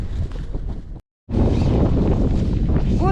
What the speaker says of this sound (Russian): Вот такой вот у нас ветер.